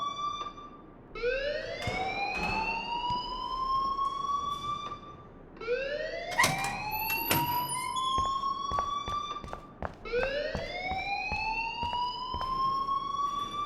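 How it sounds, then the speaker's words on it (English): An alarm blares in the video game Life Is Strange in three repeating rising siren sweeps, loud and steady, with brief clattering sounds between cycles and no voices. "please turn off that alarm since that's your job."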